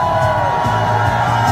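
A protest crowd lets out a loud, sustained collective shout, a dense wall of voices cheering together close up.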